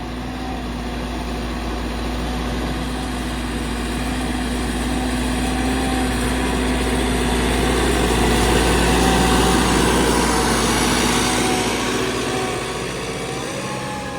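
A Tümosan tractor engine drones steadily while plowing a field near Kaman, Kırşehir. The sound is a continuous, moderately loud mechanical hum that swells slightly midway and stays level throughout, with no voices.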